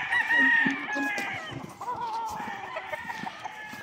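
Roosters and hens on a five-hectare chicken farm, crowing and clucking loudly and continuously, several birds overlapping close by with no talking.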